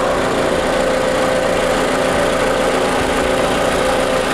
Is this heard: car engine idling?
yes